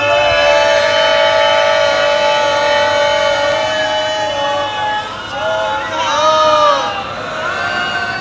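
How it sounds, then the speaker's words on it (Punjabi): A Sikh congregation at Takhat Sri Harimandir Ji Patna Sahib shouts a jaikara together during live katha. Many voices sustain a long, loud, wailing collective cry that rises and falls, filling the hall without pause. "ਸੰਗਤਾਂ ਧੰਨ ਧੰਨ ਕਰ ਰਹੀਆਂ ਹਨ ਤੇ ਜੈਕਾਰੇ ਗਜਾ ਰਹੀਆਂ ਹਨ"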